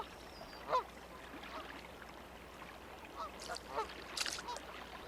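Scattered honking calls of a female Canada goose near water, a few short faint honks spread apart over a quiet, hissy outdoor background.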